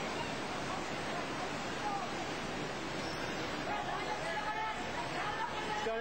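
Floodwater surges into a hotel in Sri Lanka, a loud, steady broadband rush like heavy surf that never lets up, with faint voices in the background.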